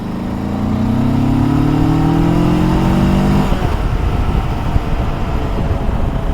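A 2023 Rieju Aventura 500 Legend adventure motorcycle engine revs up with a rising whine, then drops into a rough, steady idle, loud and close with no talking.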